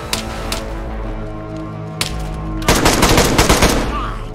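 Gunfire in the survival game DayZ: a few sharp loud shots early on, then a dense burst of rapid overlapping shots near the end, with faint game ambience underneath.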